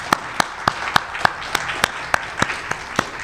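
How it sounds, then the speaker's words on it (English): Sparse, evenly spaced claps ring out in a steady slow rhythm, roughly three or four per second, as a small conference audience applauds a virtual speaker. "Let's give another round of applause for Sarah."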